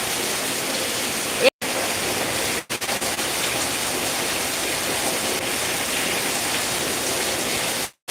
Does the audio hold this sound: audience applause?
no